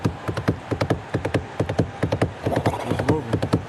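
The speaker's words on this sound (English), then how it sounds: "Is that the horse?" Horse hooves clip-clop in a quick, steady rhythm of sharp close knocks, continuing without pause for the whole stretch.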